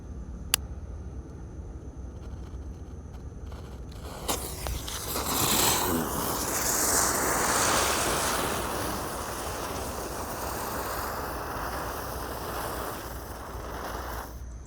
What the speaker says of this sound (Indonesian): lanjut kita akan menyalakan gangsingan atau roda gila